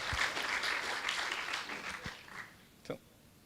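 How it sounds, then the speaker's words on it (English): A graduation audience for the Class of 2022 applauds in a moderate burst that thins and fades over a few seconds, ending in scattered claps. "congratulate yourself this evening by giving yourself a round of applause"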